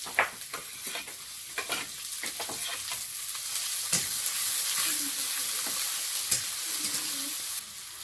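Chopped onion frying in oil in a wok or kadai, a steady close sizzle with scattered crackles and occasional scraping stirs, continuous throughout without talk.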